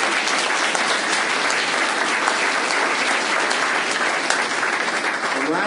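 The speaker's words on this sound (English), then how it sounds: "I'd like to thank these little children who clapped appropriately" Young children clap at a government child care announcement, giving dense, steady applause that holds at the same loud level throughout.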